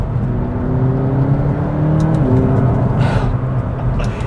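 A McLaren 570S engine pulls hard through the gears, its rising tone dropping at a quick upshift before climbing again. The steady, close, loud roar plays alone, with no talk.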